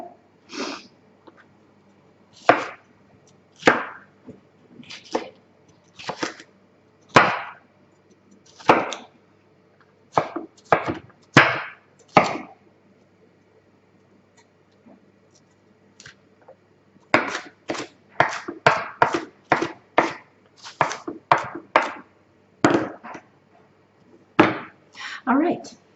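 A knife chops peppers on a cutting board in sharp, close taps, first in spaced single strikes, then a short pause, then faster bursts of rapid chopping, with no talking.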